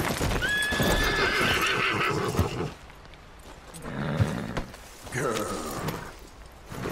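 A horse in the Western game Red Dead Redemption 2 gives loud, close neighs and snorts over clip-clopping hooves, with a pause between two bursts of whinnying.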